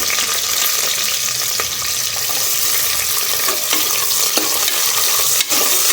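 Onions frying in a pan for Kuska rice after green chillies are added, a steady close sizzle with scraping stir strokes throughout, no voices.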